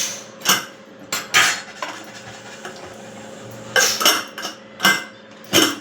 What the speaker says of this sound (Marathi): झाकण खोलते मी।